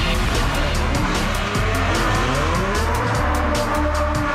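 A Ferrari V12 engine pulls hard in first gear up to 6,000 RPM, a loud, continuous, rising roar that fills the whole stretch with no pauses.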